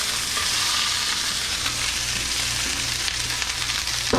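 Vegan hot Italian sausage hitting oil in a hot pan, cooked with peppers and onions, gives a steady, close frying sizzle that holds evenly throughout with no talking.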